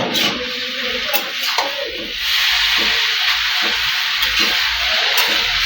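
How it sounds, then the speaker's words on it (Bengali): Noodles are stirred in a pan, with steady scraping and rubbing against the metal over a soft sizzle, close and fairly loud, with no talking. "এখন আমরা এটাকে সুন্দরভাবে নাড়বো"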